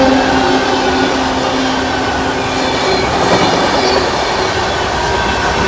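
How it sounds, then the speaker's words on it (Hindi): Mumbai Duronto Express rushes past at high speed on the adjacent track, a loud, steady roar of wheels and clattering wagons filling the whole stretch with faint rail squeal mixed in. "अभी बगल से हाई स्पीड क्रॉसिंग होने वाली है"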